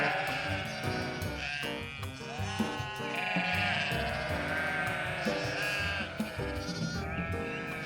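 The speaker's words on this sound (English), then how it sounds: "we have a lot of sheep here." Many sheep bleating in the morning in the Scottish Highlands near the West Highland Way, overlapping calls from several animals close by, loud and continuous with no talking.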